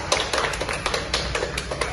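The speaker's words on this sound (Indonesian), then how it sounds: "tepuk tangan semua" A class of students clapping hands together in a classroom, a fast, slightly uneven patter of many claps close by, continuous throughout.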